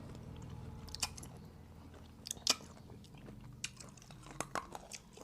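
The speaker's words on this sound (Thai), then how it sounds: "กรอบน้ำพุ่งเลยอะ อืมอ่งุ่นกรอบมาก" Crunchy pickled grapes are bitten and chewed up close, with several sharp, wet crunches standing out over a steady, soft chewing texture.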